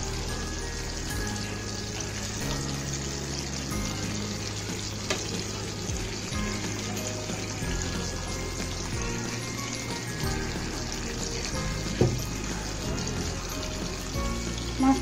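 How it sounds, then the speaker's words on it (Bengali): Small sor puti fish fry in hot oil in a pan, a dense continuous sizzle and crackle held close and steady throughout, with a few soft clinks of a utensil near the end and no talk. "ভেজে নিচ্ছি মাছটাকে"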